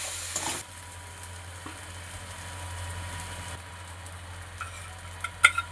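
Ginger garlic paste frying for a fish curry sizzles steadily in a pan with occasional stirring scrapes, and a few sharper pops near the end.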